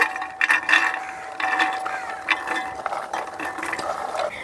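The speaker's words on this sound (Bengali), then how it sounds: "প্রেশার কুকারের মধ্যে এখন কাবলি ছোলাগুলো দিয়ে দেবো।" Soaked kabuli chickpeas poured into a pressure cooker as a dense, clattering patter of hard pieces against metal, rising and falling in bursts at close range, with no talking.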